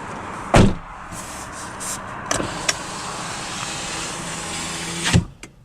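A 2017 Acura ILX A-Spec car door shuts with a solid thump, followed by a soft mechanical hum and a second heavier thud near the end, close by.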